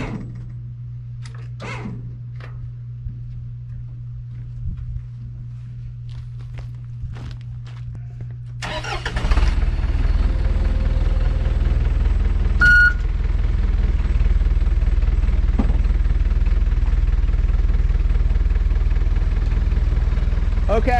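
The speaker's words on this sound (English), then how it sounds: "I'll move the truck" A truck's engine starts abruptly on an off-grid homestead and keeps rumbling steadily as it is moved, preceded by quiet footsteps and shuffling, with a brief beep and people talking nearby.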